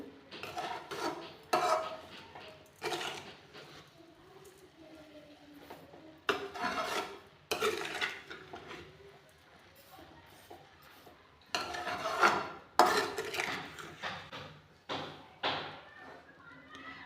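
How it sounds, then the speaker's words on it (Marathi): Carrot halwa with added sugar being stirred in a pan: repeated scraping, rasping strokes of a spoon against metal in uneven bursts, close up, with quiet pauses between. "आता साखर टाकून आपण हे परत एकदा मिक्स करून घेऊ"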